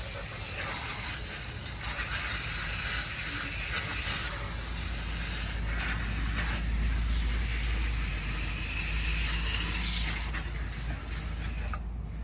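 A water hose rinsing a mini split air conditioner's condensing unit on a concrete pad: a continuous, close, loud hissing spray with slight surges in intensity over about twelve seconds.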